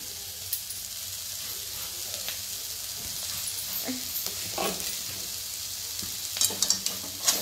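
Horse gram curry with salt and coriander being stirred in a pan, with a soft continuous sizzle and hiss broken by scattered spoon scrapes and taps, louder near the end.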